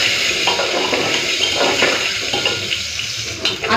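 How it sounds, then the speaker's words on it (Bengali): Salted, turmeric-dusted potatoes fry in a pan, a loud, close, continuous sizzle with soft clinks of the pan and faint watery hiss, with no speech. "আলু ভাজাটা বসিয়ে দিই"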